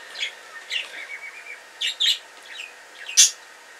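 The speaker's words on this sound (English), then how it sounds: "My bird." Pet bird chirping indoors, a series of short, bright tweets spaced irregularly, several close together with one louder call near the end, over a quiet background.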